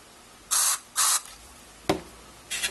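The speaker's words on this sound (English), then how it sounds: "spray a little more" Short bursts of aerosol cleaner spray into the volume control of a NuTone Model 2570 intercom station: two close hisses, then a sharp click as the control turns, then a softer third hiss.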